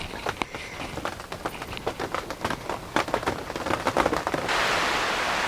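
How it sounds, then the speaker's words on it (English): Rain falls on a UK garden in June, with dense irregular pattering of drops on nearby surfaces that rises into a steady, louder hiss toward the end. "So I don't know if you can hear, but the rain has set in now."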